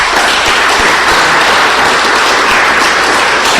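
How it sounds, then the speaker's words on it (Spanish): A loud, close, densely packed round of applause rises from a church congregation, continuous and even throughout with no voices over it. "Un aplauso a nuestro Señor Jesucristo."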